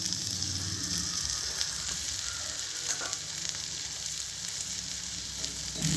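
Vanjaram fish fry sizzling in a pan, a dense continuous bright hiss of hot oil with faint crackles throughout, close and steady, no voices.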